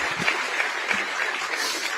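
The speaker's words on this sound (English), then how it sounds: "So please give them another round of applause." Steady applause from an audience at a civic breakfast event, a dense, even patter of many hands filling the short stretch with no voices over it.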